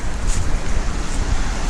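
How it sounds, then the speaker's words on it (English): Creek water flowing at a campsite in Dolly Sods, West Virginia, giving a steady, broadband rushing wash that stays close and continuous with no talk over it. "this would be a great place to listen to the creek, go to sleep too"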